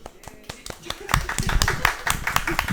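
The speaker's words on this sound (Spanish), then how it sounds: "Pueden aplaudir." Clapping to close a Spanish-language podcast episode: a few sharp scattered claps, then a brief flurry of hand claps from several people in a small room, with voices talking and laughing over them.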